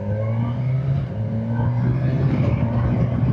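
A 2025 Kawasaki Versys 1100 S motorcycle accelerates hard with a quickshifter, its engine note climbing steadily, loud and close, with rapid gear changes barely interrupting the drone.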